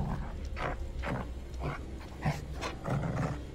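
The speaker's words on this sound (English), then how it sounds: "Keep the dog quiet." A dog in the Devil In Me video game gives low rhythmic growls and whimpering snarls, repeated in bursts about every half second, close and fairly loud with no talking.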